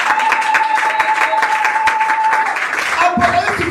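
A church congregation claps and cheers loudly and continuously throughout, a dense wash of applause, while a voice speaks over it.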